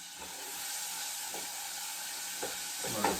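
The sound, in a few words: onions sizzling while cooking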